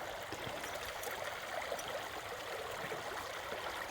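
Stream water runs steadily over rocks at a river crossing in Eno River State Park, a continuous close trickling and gurgling rush with no voices.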